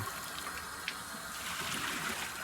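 Water rushes from a sink tap under high pressure, a steady hissing, splashing flow that stays close and constant with no voices.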